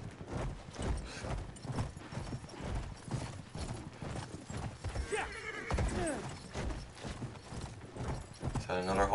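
Horse hooves clip-clop at a steady galloping rhythm in the video game Battlefield 1, layered with dense game noise and some mechanical sounds.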